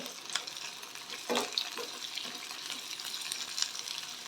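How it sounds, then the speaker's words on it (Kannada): Onion and farm tomatoes fry in a pan with a soft, steady sizzle, broken by a few scraping stirs and light clinks, fairly quiet and close with no talking. "ಈಗ ಈರುಳ್ಳಿ ಇಷ್ಟು ಫ್ರೈ ಆಗಿದೆ"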